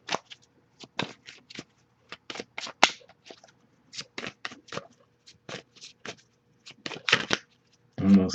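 Tarot cards are shuffled in quick, irregular bursts of crisp riffling and flicking, close up, with short pauses between, ending in a soft thud.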